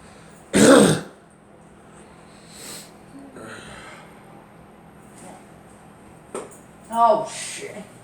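Two people cough and clear their throats: one loud, harsh throat-clearing burst up front, scattered softer hacks and snorts through the middle, then another strong cough near the end.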